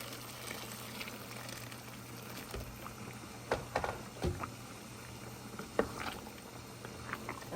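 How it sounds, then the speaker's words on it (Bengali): Water in a pot with fried rice for chicken biryani comes to a boil, scattered soft bubbling pops and gurgles rising over a steady low hum, faint and close, with no voices. "পানিটা বলক উঠে গেছে"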